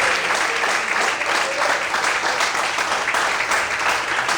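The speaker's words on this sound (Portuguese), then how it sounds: "Mais fortes as palmas ao Senhor." A church congregation applauds during a sermon, producing a strong, dense patter of hand claps that swells and holds steady over several seconds without spoken words.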